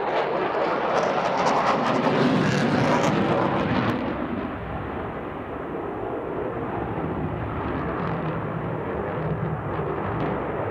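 A jet fighter at an airshow roars through a minimum radius turn on maximum afterburner, a loud broad thundering rumble that is strongest at first and then eases into a steady distant roar.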